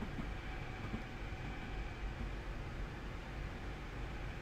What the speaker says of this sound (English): There's the other train.